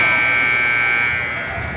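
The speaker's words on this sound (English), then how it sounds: "that's the buzzer for end of the first period." A loud, steady electronic horn blares in an ice hockey arena to end the first period of a Bantam AA youth game, Brainerd against International Falls. It holds a single continuous tone and fades slightly near the end.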